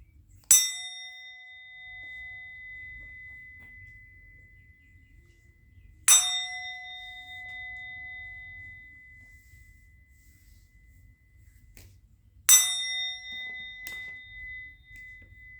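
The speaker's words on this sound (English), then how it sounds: "I'm going to ring the bell." A bell is struck three times at even, widely spaced intervals, each strike a clear, bright ring that decays slowly into near silence, with no talking.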